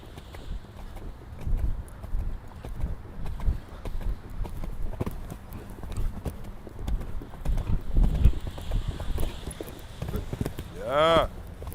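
Horse cantering in a riding arena, hooves clip-clopping in a steady repeated rhythm at close range, with a coach's voice speaking intermittently over the hoofbeats.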